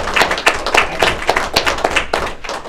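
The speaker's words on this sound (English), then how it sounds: "Big round of applause for Brayden Myers." Applause at a school board meeting: a small audience claps in a brisk, even rhythm for a student being recognised, close and fairly loud, with no talking.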